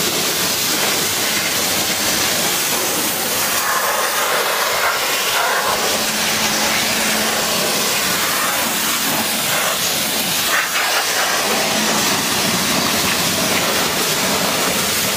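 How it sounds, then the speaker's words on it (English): A jet wash rinsing soap off an alloy car wheel, a loud continuous broadband hiss of high-pressure water spray, close up and steady with slight surges, no voices. "just switch the jet wash on"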